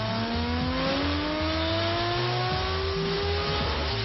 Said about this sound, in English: run it up to the red line at Valvoline's Mobile Dyno